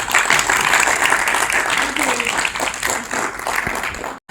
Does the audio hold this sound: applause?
yes